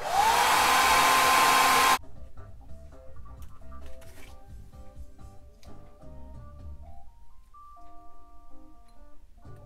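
A hair dryer blows loud and steady for about two seconds to dry a freshly airbrushed flat-sided coffin-bill crankbait lure, then cuts off, leaving quiet handling noises.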